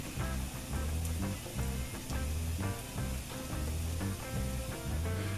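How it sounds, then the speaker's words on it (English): Garlic sautéing in olive oil in a deep pan, a steady close sizzle with sputtering crackles running continuously, joined by pulsing background music throughout. "add the garlic in and let that saute for about a minute"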